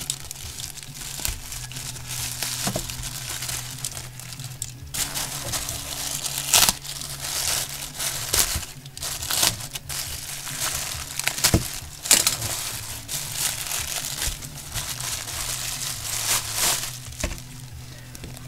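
A plastic bag crinkles and rustles steadily while a taped parcel from AliExpress is opened by hand, dense crackling close by with a faint steady hum beneath.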